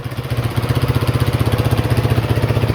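A 2005 Honda TRX450R ATV engine idles steadily and loudly up close, a fast regular thumping pulse with no voices.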